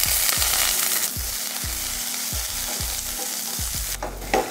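Dried red chillies and onion sauté in a pan with a steady sizzle, while a spoon scrapes and stirs in regular rhythmic strokes, close and clear.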